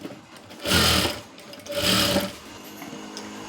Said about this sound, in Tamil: லேஸ் வந்து பார்த்திங்கன்னா இந்தளவுக்கு நம்ம கட் பண்ணி எடுத்துக்கலாம் கரெக்டாக அந்த ஓரத்தில் அப்படி வச்சுட்டு தையல் போட்டுக்கணும்